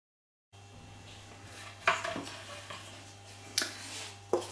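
A hot frying pan is handled on the stove, giving three distinct metallic clanks and knocks spread over a few seconds above a low steady hum, as oil goes in for an octopus empanada filling.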